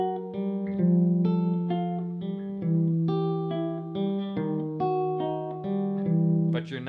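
Guitar picking a tune with an open drone string left ringing unmuted, a steady low note sustaining beneath a run of plucked melody notes, played alone without talk.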